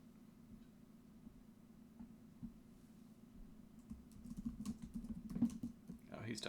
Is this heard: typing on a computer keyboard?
yes